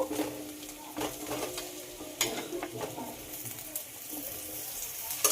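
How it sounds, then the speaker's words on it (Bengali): Sliced potatoes frying with lightly browned onion in a pan, a soft steady sizzle with scraping stir strokes and a few brief clatters, heard close with no talk. "আলুগুলো পেঁয়াজের সঙ্গে খুব ভালোভাবে ভেজে নেব"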